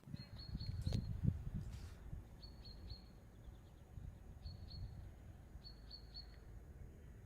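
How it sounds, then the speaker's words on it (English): Faint birdsong in a quiet outdoor setting: short repeated high chirping phrases at intervals over soft background rumble and a couple of brief knocks. "Just listen to that. Absolute silence. Just the birds."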